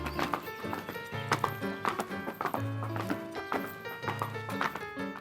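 A horse gallops, its hooves pounding out a close, loud, rhythmic clip-clop beat in repeating three-part strides, with a few brief snorting or whinnying sounds mixed in.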